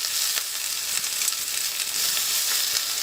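Garlic and shallots sizzle steadily in a big, hot pan, a continuous close frying hiss with small crackles running throughout, no voices over it.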